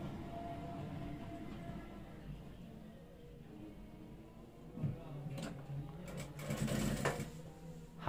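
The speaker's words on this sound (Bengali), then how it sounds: "হাফ ইঞ্চি চৌড়া করে এভাবে ডাবলের কাপড়টা সেলাই করে নেবেন।" Sewing machine stitching a doubled strip of fabric half an inch wide to make shoulder and waist loops for a round-collar school kameez, with a steady low mechanical whir that comes in short bursts and grows louder toward the end.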